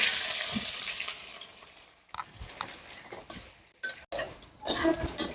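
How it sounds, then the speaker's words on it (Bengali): Onion fries in hot oil in a pan for a homestyle duck curry, producing an uneven sizzle that starts loud, fades, then returns in bursts with stirring scrapes and a couple of abrupt breaks. "তেল করে হয়েছে রে, একটু পেঁয়াজ দিলা।"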